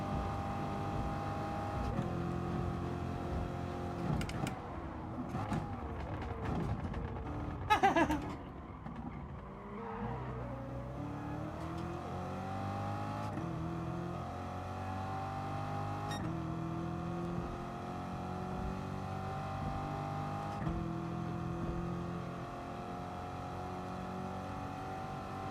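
A Corvette engine in the racing game Gran Turismo Sport revs and drops through gear changes, a steady droning whine rising and falling as the car brakes and accelerates, with a brief skid sound.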